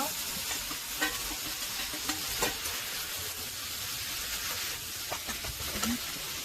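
Meat frying and being stirred in perilla oil in a heated pan for a paprika and mushroom japchae dish; a steady close sizzle with intermittent scraping stir sounds throughout.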